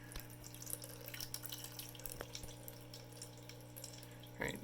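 Water runs steadily down into a reservoir on a 3D-printed prototype, a soft continuous trickle and flow with a few faint drips. A brief louder splash comes near the end.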